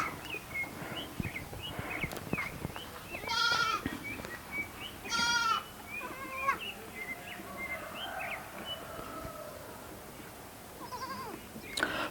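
Several goats bleat in short wavering calls, some close and some farther off, with occasional bird chirps and outdoor ambience in between.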